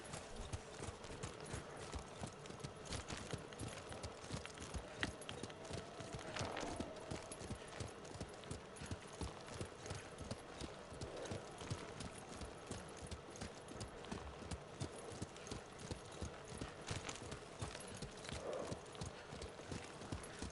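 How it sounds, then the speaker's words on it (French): Horse hooves clip-clop steadily at a riding pace down a mountain in the video game Ghost of Tsushima, with an occasional faint whinny in the mix. "Et il descend de la montagne à cheval."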